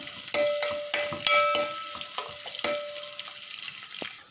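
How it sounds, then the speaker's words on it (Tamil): Garlic and green chillies sauté in oil in a pan for a fish curry, giving a soft sizzle broken by sharp clicks and scrapes of a spoon stirring against the metal, fairly quiet and close. "கொஞ்சமாக பூடு இதெல்லாம் போட்டு நல்லா வதக்கிக்கலாம்."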